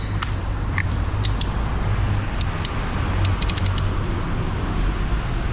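Part of a Suzuki Hayabusa motorcycle clutch being tightened, giving a run of sharp metallic ratcheting clicks in irregular bursts over a steady loud background hum.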